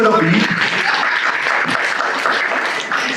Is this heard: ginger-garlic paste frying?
no